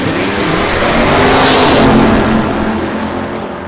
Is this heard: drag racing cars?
yes